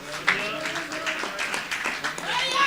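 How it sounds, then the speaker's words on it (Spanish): A church congregation breaks into applause during a worship service, many hands clapping in an irregular rolling patter while a voice speaks over it. "Un aplauso al Señor."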